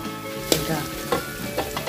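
Dried chilies and garlic are stir-fried in a pan for a bean sprout and pork dish, giving a steady close sizzle broken by a few sharp spatula scrapes.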